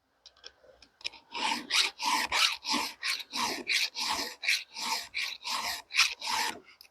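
A hand file sharpens a chainsaw chain on a cold morning: about a dozen crisp rasping strokes in a steady back-and-forth rhythm, close and clear with short pauses between each pass.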